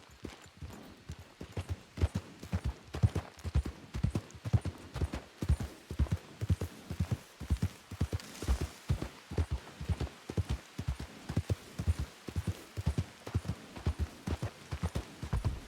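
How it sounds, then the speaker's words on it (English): Horse hooves clip-clop in a WildRP roleplay video game, a steady, close, rhythmic run of hoofbeats that continues throughout with no talking. "Horses here."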